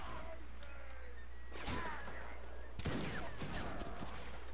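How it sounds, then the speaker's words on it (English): A grenade explodes in the video game Mount & Blade Napoleonic Wars during a siege battle, a couple of sharp crashing bursts amid scattered gunfire and battle noise, fairly distant over a constant low hum. "a grenade."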